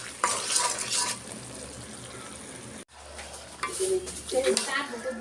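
Meat is stirred with packet spices in a frying pot, giving a sizzle with scraping and stirring sounds, a short break partway through, then louder clattering stirs.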